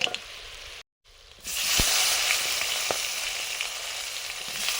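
Nigella seeds hit hot oil for a pabda fish mustard curry, a momentary gap giving way to a sudden, louder crackling sizzle that holds steady, with a few sharp pops rising above it.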